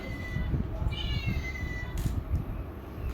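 A cat meows again and again at close range across a few seconds, with an unboxing going on around it and steady background noise underneath.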